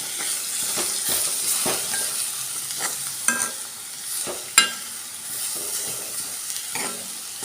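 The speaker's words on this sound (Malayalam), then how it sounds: "അരപ്പിട്ട് കൊടുത്ത ശേഷം നമ്മൾ ഇത് നന്നായിട്ടൊന്ന് ഇളക്കുക" Banana stem and sprouted green gram stir-fry (thoran) being stirred in a sizzling pan, repeated scraping strokes with occasional sharp clinks over a steady frying hiss, close and moderately loud.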